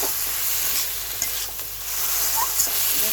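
Masala with chopped green chilies, whole green chilies and dried chili powder sizzling in a pan while being stirred, a steady frying hiss with occasional scrapes and clicks of the spoon.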